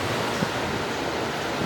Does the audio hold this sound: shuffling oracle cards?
no